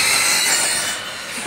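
A fast RC car with a 150-amp motor whooshes past close by, giving a loud, bright rushing hiss and whine that eases off as it goes.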